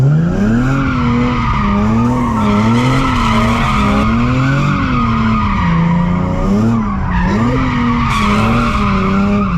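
A Nissan 370Z skids and squeals its tires under hard throttle, the engine droning loudly and steadily beneath a continuous wavering screech that lasts throughout.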